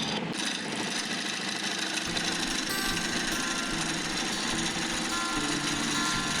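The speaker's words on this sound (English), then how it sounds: "I'm just using a 3/8 bowl gouge and just starting all the nibbling out" A 3/8 bowl gouge cuts hard coolabah burl spinning on a wood lathe, giving a loud, continuous rough chattering drone with the motor's hum underneath, steady throughout and with no voices.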